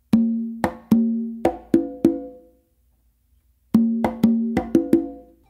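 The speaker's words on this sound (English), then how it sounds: "should sound like the two opens you do in a normal tumbao" Conga played alone in a tumbao figure: two phrases of sharp hand strokes with ringing open tones, a pause between them, close and clear with no talking.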